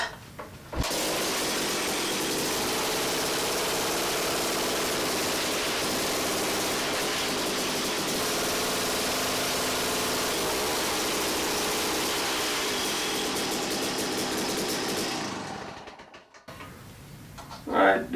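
A small gasoline ice auger engine runs steadily after a carburetor cleaning, a loud, continuous buzzing drone that holds for about fifteen seconds before cutting out abruptly, followed by brief handling noise.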